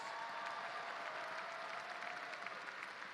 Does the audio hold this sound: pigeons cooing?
no